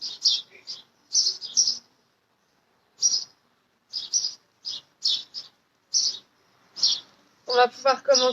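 Birds chirp outdoors in short bursts of high tweets separated by brief pauses, close and clear, and a voice starts talking near the end.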